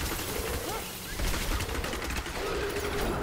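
Rapid-fire shots and caltrops attacks in the hardcore Diablo 3 Reaper of Souls action game, a dense crackling volley of quick game weapon sounds under a busy battle mix.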